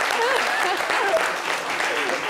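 Applause breaks out for the Baoulé dogs of Côte d'Ivoire, a steady wash of clapping that runs continuously under a voice talking over it.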